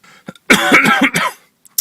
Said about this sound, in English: please excuse the occasional cough.